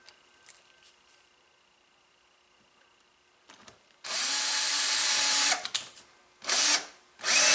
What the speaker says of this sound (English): So you put your board on the line and then drive your pocket screws.